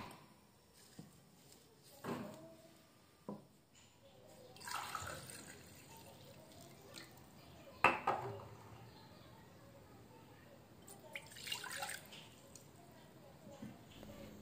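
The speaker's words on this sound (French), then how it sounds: "dans un récipient, je vais mettre 160 ml d'eau tiède" Lukewarm water poured into a bowl while mixing pan pizza dough in a Moroccan home kitchen, giving soft, intermittent splashes and trickles at close range, with a few clinks, under quiet background sound.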